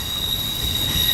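An East Midlands Railway train at Manchester Piccadilly rumbles past up close, with a continuous high metallic wheel squeal ringing over the low rolling noise.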